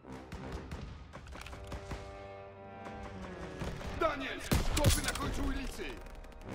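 Battle gunfire in the World War II shooter Call of Duty: WWII, sounding as scattered shots and bursts mixed with a voice, music and ambience, ending in a louder close volley.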